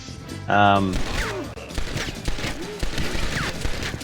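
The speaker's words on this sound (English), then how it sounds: "I'm just firing, rapid fire." Rapid gunfire from a Red Dead Redemption game session, a quick run of sharp shots firing in succession with game sounds behind them.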